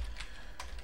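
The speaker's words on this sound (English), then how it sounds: "You guys will hear me typing." Quiet typing on a computer keyboard during a horse racing game session, a few soft key clicks over a steady low background hum.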